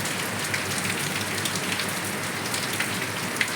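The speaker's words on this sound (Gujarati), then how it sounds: "11:30 વરસાદ જમાનો મંડાણો" Rain falls steadily at night, a dense, even hiss of drops on surfaces with faint scattered patters and no voices.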